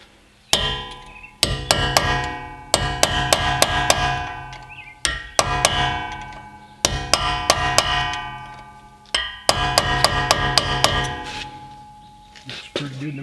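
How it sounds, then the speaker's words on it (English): Hammer blows on a punch reshaping a metal part of a 2007 Honda Pilot CV axle ring out as sharp metallic clangs, struck in quick rapid clusters separated by short pauses, loud and close with ringing decay and no talk. "we're just going to use a punch to try and get up under there and make that mostly round again"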